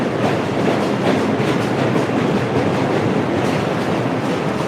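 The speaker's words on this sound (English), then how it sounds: "This train is so loud." A loud train rumbles past close by, a steady heavy roar of wheels and rattling cars that fills the whole stretch without letting up.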